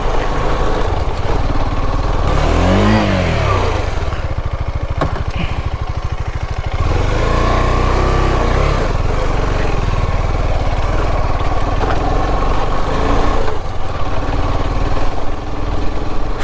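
A KTM ADV250 motorcycle engine drones steadily while being ridden off-road, loud and close throughout with revs rising and falling under rough buffeting and wind noise.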